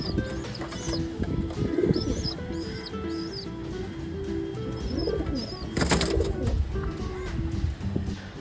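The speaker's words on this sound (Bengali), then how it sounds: "অনেক দিন থেকে এই পায়রা পুষছে" Pet pigeons coo in soft, repeated low rumbling calls close by, with faint chirps and a brief burst of wing flapping, against a light outdoor background.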